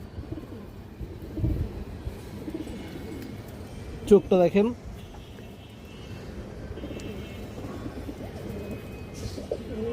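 Pigeons in a Bengali loft give a short, bright burst of cooing near the middle, close and fairly loud, over low background noise and someone talking.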